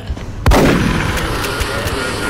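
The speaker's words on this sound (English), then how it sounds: "Shotgun!" A single sharp shotgun blast in XCOM: Enemy Unknown cracks out near the start, followed by a booming tail and low rumble that fade slowly over the remaining seconds.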